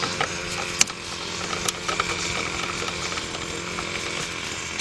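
Nut driver with a T25 quarter-inch drive backing out bolts near the expansion tank of a 2002-2005 BMW 745i, a steady mechanical whir with a few sharp clicks close by, no talk.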